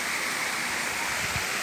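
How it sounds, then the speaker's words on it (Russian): Mineral water pouring from a tropical shower at a thermal pool, a steady, dense broadband rush of falling water close by, continuous and unbroken with no voices. "И вот это вот все как тропический душ."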